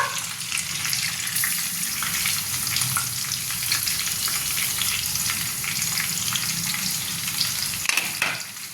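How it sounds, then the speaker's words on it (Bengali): Chopped ginger and garlic fry in a hot pan for a fish curry, a steady loud crackling sizzle running throughout with occasional stirring scrapes and no talking. "এবার আমরা আদা রসুন একসাথে কাটা ছিল সেটা দিয়ে দেব।"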